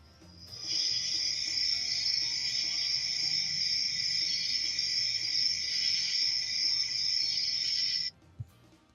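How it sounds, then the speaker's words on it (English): Cricket chirping sound effect, a continuous high, shrill trill played for about seven seconds at steady level, starting and stopping abruptly, over a quiet background. "That's my cricket sound effect."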